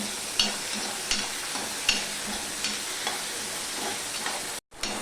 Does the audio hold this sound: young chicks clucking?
no